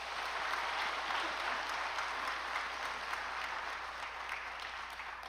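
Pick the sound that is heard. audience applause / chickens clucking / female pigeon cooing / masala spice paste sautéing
audience applause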